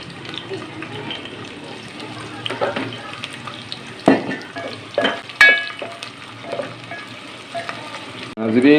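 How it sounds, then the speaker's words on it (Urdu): Finely chopped onion drops into half a cup of hot ghee and fries with a soft, steady sizzle, punctuated by several sharp clacks and scrapes of stirring, while a voice talks intermittently over it. "ناظرین ہم ڈالیں گے 1 عدد پیاز، یہ باریک میں نے کاٹا ہوا ہے"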